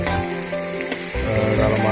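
East Javanese Lamongan-style nasi goreng frying in a pan at home makes a loud, continuous sizzle up close, with scraping and stirring clatter and no talking.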